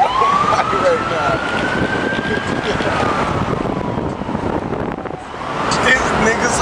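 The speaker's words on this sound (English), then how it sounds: "they're wondering why the fucking ambulance is going by right now" An ambulance siren sweeps past outdoors, its wailing tone rising and falling steadily over heavy wind noise and traffic rumble before fading slightly and returning.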